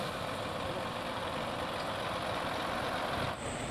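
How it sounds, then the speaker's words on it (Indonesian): A Fuso trailer truck labouring on a steep hill, its engine a steady diesel drone and rush of noise from a distance, ending with a brief dip and a high whine or hiss near the end. "Satu unit truk trailer, bosku."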